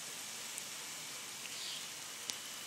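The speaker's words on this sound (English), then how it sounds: "I don't know if y'all can hear the rain, but it's pretty loud" Heavy rain during a storm, a steady hiss of rainfall with a few scattered drips and taps close by, fairly faint and even throughout.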